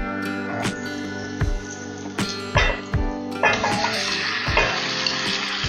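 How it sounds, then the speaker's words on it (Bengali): About 400 grams of marinated chicken goes into a hot pan for lachcha chicken. Metal stirring clanks come first, then a louder, denser sizzle swells up and stays close under the knocks of the spoon. "এই পর্যায়ে আমি ম্যারিনেটেড চিকেনটা দিয়ে দিচ্ছি।"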